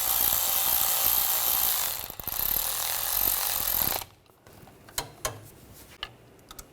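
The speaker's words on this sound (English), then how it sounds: "I'm going to torque these bolts to 54 foot-pounds." A torque wrench works on the CV axle bolts of a 2009-2013 BMW 328i xDrive, a loud continuous whirring ratchet that stops abruptly, followed by a few sharp clicks and knocks.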